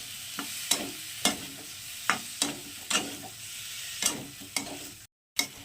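Fried shrimp with taro and spices sizzle in a pan under a steady hiss. A utensil scrapes and stirs in repeated sharp strokes, close by and with no talking.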